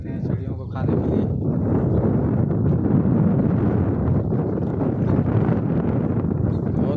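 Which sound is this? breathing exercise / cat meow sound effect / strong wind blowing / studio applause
strong wind blowing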